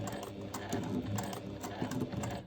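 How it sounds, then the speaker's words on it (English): A sewing machine fitted with a Teflon presser foot and a 100-weight needle runs steadily, stitching a seam on a rolled bag handle in a continuous close mechanical whir with slight rhythmic pulses, no voices over it. "I take a few stitches and then I backstitch to secure the thread"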